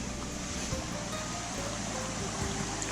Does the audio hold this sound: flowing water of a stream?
yes